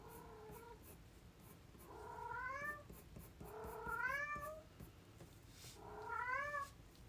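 A domestic cat meows indoors three times, each cry a rising then falling tonal wail spaced a couple of seconds apart, fairly close against a quiet background.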